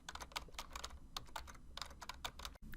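Fingers type on a computer keyboard in a fast, steady stream of close, crisp key clicks that continues throughout, with no voices.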